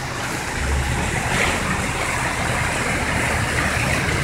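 Floodwater rushes through a flooded residential street and pours out of houses, a steady broadband roar of flowing water running continuously with wind buffeting the microphone.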